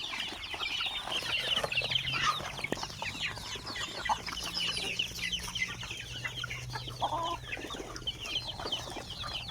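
Backyard village chickens clucking and chattering continuously at close range, many overlapping calls under a steady low background hum on an evening farm.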